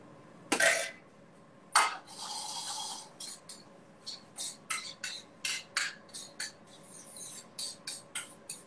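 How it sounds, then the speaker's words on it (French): Pots, pans and utensils clatter and scrape during cooking with mushrooms, carrots and pan juices, with a sharp knock early on and then a steady run of short metallic clinks close by, without talk. "Ah, les bruits caractéristiques des casseroles."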